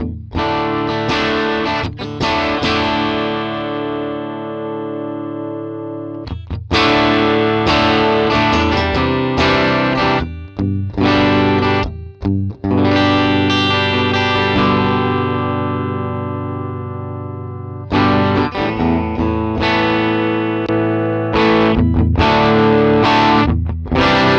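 An electric guitar through a Vox AC30 amp model on an Axe-Fx III plays sustained, overdriven chords and riffs with a warm tone, loud and continuous with brief pauses between phrases.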